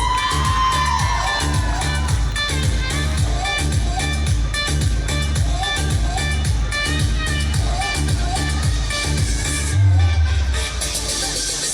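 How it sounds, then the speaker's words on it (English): A fashion show crowd cheers and whoops over loud, pounding ramp music with a heavy bass beat, the shouts and clapping mixed into the steady rhythm and a voice briefly coming through. "Come on everybody, give me a big round of applause."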